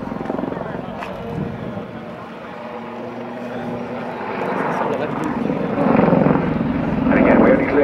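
An Army Air Corps Lynx helicopter flies a backflip display manoeuvre at an air show, its rotor and engine roar steady and fairly distant, then swelling louder toward the end, with a commentator talking over it throughout.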